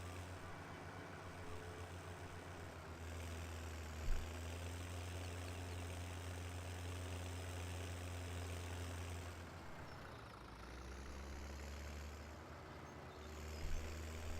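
A tractor engine in Farming Simulator 17 runs steadily at close range, a low, even idling rumble that sags briefly once and recovers, with a couple of faint knocks.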